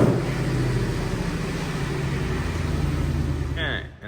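A Ford Mustang with Stainless Works headers rumbles steadily as it creeps into a garage, a continuous loud low engine drone close by that cuts off abruptly near the end, with a brief voice just before it stops.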